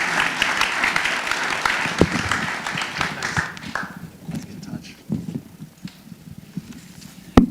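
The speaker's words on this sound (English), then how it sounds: "How about a round of applause for these gentlemen?" Audience applause at a live regenerative-agriculture event in New York, steady crowd clapping for the first four seconds that fades into scattered claps, shuffling and faint talk.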